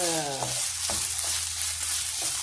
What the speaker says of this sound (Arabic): الدجاج تطخطخ شوية